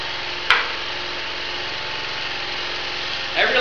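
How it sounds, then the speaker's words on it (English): Small gasifier-fueled generator engine warming up in a garage, a steady light idling putter throughout, with a sharp knock near the start and a brief rise in noise at the end. "That generator really does run good."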